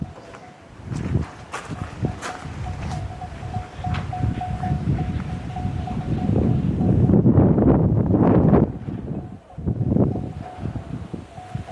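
Strong outdoor wind roars into the microphone in a steady, loud rush that swells into heavier gusts, with a faint thin tone running beneath it.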